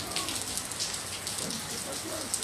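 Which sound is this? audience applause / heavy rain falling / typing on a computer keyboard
heavy rain falling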